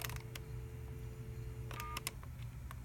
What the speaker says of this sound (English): So you'll hear touch tones now